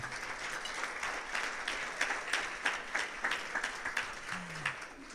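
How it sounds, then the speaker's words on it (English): An audience at a Hendersonville chamber monthly luncheon mayoral forum gives a round of applause. The clapping is moderately distant, fairly steady, and swells and fades over several seconds. "How about a round of applause?"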